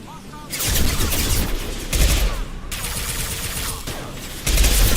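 Loud rapid gunfire fills a Mass Effect 2 firefight, dense bursts of automatic shots in several sustained stretches with brief pauses between them, close and heavy.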